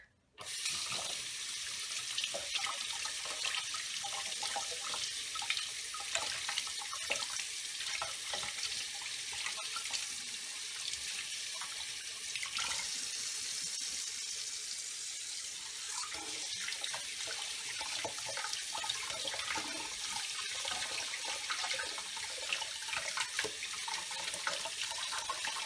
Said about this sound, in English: Now we wash the meat in cold water to get rid of any excess